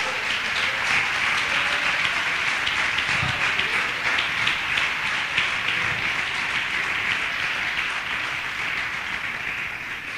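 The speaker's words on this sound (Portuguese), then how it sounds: "Pode aplaudir ao Senhor aí," A church congregation applauds during a sermon, a long, steady, crowded roar of clapping that holds at the same loudness throughout without speech.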